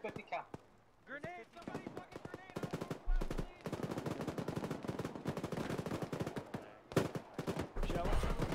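A .50 cal machine gun fires in the military game Arma 3, a rapid stream of heavy rounds in long bursts, mixed with other gunfire and shouted voices, moderately distant and steady after a sparse start.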